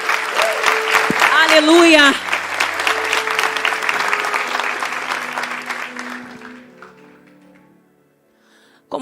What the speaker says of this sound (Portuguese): Vamos aplaudir bem forte o nome do Senhor.